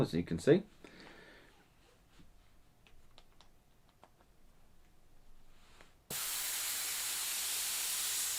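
Airbrush blowing leftover paint out through its nozzle to clear the reservoir: a sudden loud, steady hiss bursts in near the end, after someone speaks briefly over quiet handling clicks.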